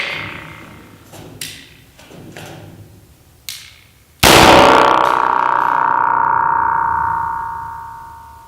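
A 9mm round is fired inside a giant tin can, producing a single loud, close blast after a few light taps. A long metallic ring follows and slowly fades over several seconds.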